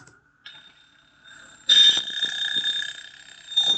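An electronic school dismissal bell tone sounds, steady and ringing, with a brief chime before it and faint background noise; moderately loud and nearby.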